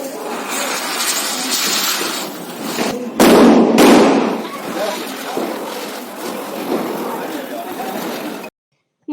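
Firecrackers go off during a family Diwali celebration, a loud burst of blasts near the middle standing out from a dense, continuous crackle and street noise, with voices mixed in.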